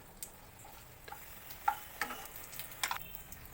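Cashews, cardamom and raisins frying on a slow flame in a pan, a soft background sizzle broken by a few light clicks and taps of a stirring spoon.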